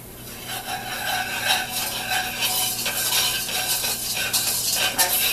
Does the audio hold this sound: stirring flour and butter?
yes